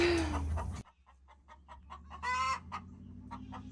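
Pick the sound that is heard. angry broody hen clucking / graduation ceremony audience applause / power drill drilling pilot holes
angry broody hen clucking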